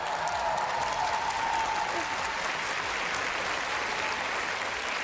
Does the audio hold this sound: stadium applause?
yes